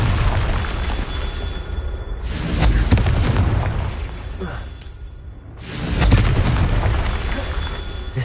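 Two heavy booming blasts from a Confringo blasting spell in a Harry Potter video game, each a loud whooshing burst with a rumbling tail, a few seconds apart.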